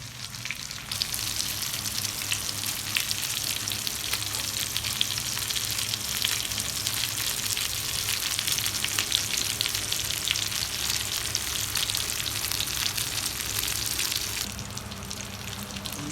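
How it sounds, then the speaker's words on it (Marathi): Steady, dense sizzling of chicken frying on a hot tawa griddle, continuous and even throughout with no talking. "चार पाच मिनिटं शिजवायचंय मग मस्तपैकी तवा फ्राय चिकन होणार आहे"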